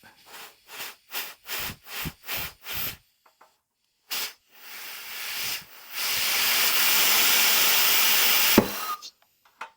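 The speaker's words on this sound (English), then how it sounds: "I got a little air compressor I use up near the bench" A small bench air compressor blows a piston out of a Girling G54 single-piston brake caliper: a run of short rhythmic air bursts, then a long loud sustained hiss ending in a sharp pop, close and without talk.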